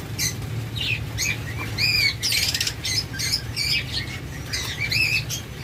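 A pair of green Fischer's opaline lovebirds give sharp, close squawks and chirps in quick repeated bursts, with some wing flutter over a low background hum.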